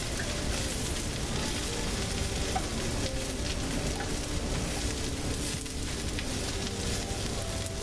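Spinach and mushrooms cook in a frying pan with a constant, soft, even sizzle and crackle that continues without a break. No voices are heard.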